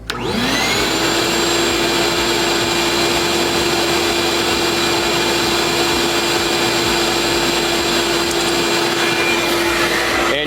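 Oneida Dust Deputy 2.5 Deluxe cyclone dust collector running on a shop vacuum, a loud, steady whine with a constant hum that holds unbroken from start to finish.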